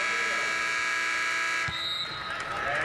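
End-of-period buzzer at a high school boys basketball championship game in a gym, a loud sustained electronic drone cutting off sharply, followed by crowd noise and announcer talk.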